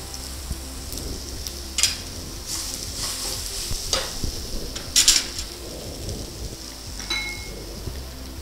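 Urad dal and plantain frying in a pan while being stirred, a low steady sizzle broken by a few sharp scraping stirs and clinks, with no voices.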